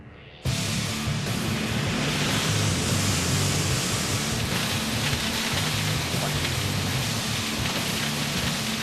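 A staged recreation of an oil gusher erupting from a well: a sudden loud rush of spraying liquid bursts in after a brief quiet start and roars on continuously, broad and hissing like a torrent.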